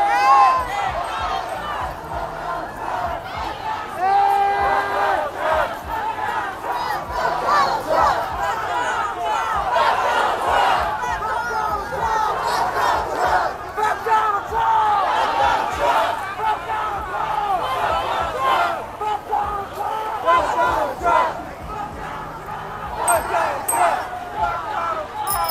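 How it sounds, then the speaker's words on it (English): Anti-Trump protest crowd on a Sacramento street corner, a dense, continuous roar of many voices shouting and cheering together, with scattered yells rising above the steady crowd noise. "They've been cheering"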